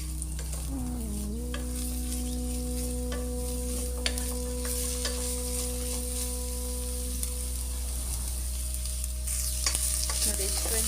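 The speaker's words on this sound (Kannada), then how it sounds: "ಕ್ಯಾಪ್ಸಿಕಮ್ ಇದು ಸ್ವಲ್ಪ ಫ್ರೈ ಆಗಿ, ಜಾಸ್ತಿ ಫ್ರೈ ಆಗಬಾರ್ದು, ಕ್ರಂಚಿ ಥರ ಇರಬೇಕು ಸ್ವಲ್ಪ." Capsicum frying in a pan for paneer rice, with a steady sizzle and occasional light stirring clicks over a constant low hum and faint tonal background noise.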